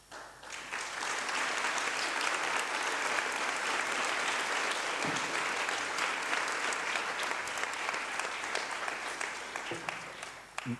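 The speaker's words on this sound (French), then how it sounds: "j'ai vu que Madame la Ministre vous applaudissait aussi là-dessus" An audience at an interview event applauds steadily for around ten seconds, a dense, even wash of clapping heard at a moderate distance that tapers slightly near the end.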